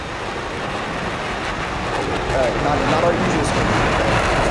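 An aircraft engine drones steadily in a flight combat game, a constant broadband rumble that grows slightly louder partway through, with people talking over it.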